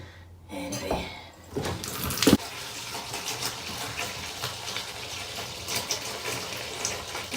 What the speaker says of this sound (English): I'm going to run water on, let them just soak water.